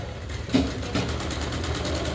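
A sewing machine runs steadily while stitching the seam of a katori-cut blouse, a continuous mechanical whir with a slight jolt partway through, heard alone at moderate level.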